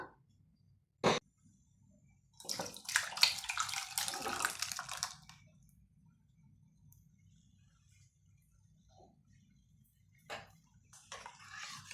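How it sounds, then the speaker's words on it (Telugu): A brief clink, then water pours into moong dal in a pressure cooker for a few seconds before stopping; a shorter splash of pouring follows near the end, close and fairly quiet. "ఇంకా కొద్దిగా వాటర్ వేసుకున్నాము"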